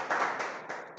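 Applause for the Kalyan Spartans team at an Atya Patya league players draw, a steady wash of clapping hands lasting about a second, moderately loud and close with no voices over it.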